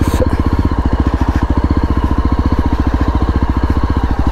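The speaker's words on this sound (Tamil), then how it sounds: "இசைமலைனா நான் அந்த வண்டியோட சவுண்டு தான் சொல்கிறேன்." A Yezdi Roadster 350 motorcycle idles close by, its exhaust putting out a steady, rapid, loud thump with an even pulse throughout.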